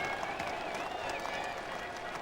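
Football crowd of just under 3,000 at Marlow's FA Cup tie against Plymouth Argyle applauding as the teams come onto the field, a continuous, moderately distant wash of clapping and crowd noise.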